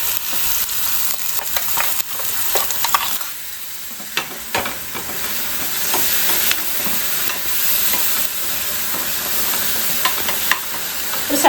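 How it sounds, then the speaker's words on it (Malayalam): A chutney for ragi dosa is stirred in a pan on a low stove flame, giving a steady sizzling hiss broken by repeated scraping and stirring strokes, close and fairly loud. "ഒന്ന് ഇളക്കി നമുക്ക് അടുപ്പത്തോട്ട് വെച്ച് ചൂടാക്കി എടുക്കാം"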